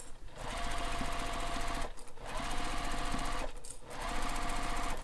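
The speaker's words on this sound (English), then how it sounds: "So sewing this with your full seam allowance, starting at the bottom, and don't forget to backstitch." A sewing machine runs at a steady fast pace, stitching a seam on a fabric beach bag. It makes a loud, close mechanical whir in three long runs, with two brief pauses between them and no talk.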